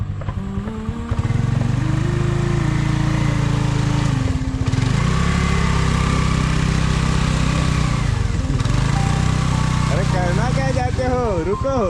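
A vehicle off-roading on a rough trail near a village waterfall gives off a loud, close engine drone that rises and dips as it climbs, with voices talking over it.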